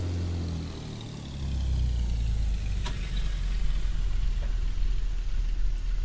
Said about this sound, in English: Then let's go down to idle. Now listen to the engine.